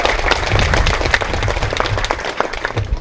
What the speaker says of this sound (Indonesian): Mari tepuk tangan untuk Tuhan